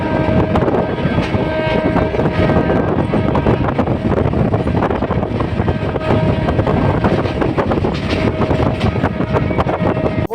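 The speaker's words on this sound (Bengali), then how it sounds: "ওই ট্রেনটা সোজা যাচ্ছে" A train on the Kolkata circular railway, heard from on board as a loud, steady rumbling roar with wind buffeting and rattling clatter throughout.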